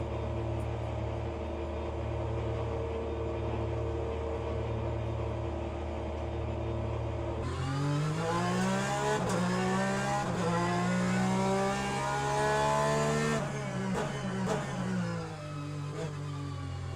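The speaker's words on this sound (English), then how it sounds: "The Porsche definitely sounds better than the Ferrari." A Porsche race car engine in Le Mans Ultimate, idling steadily with a low drone, then revving hard and climbing through rising gear pitches with a loud, buzzing roar before easing off near the end, no talking.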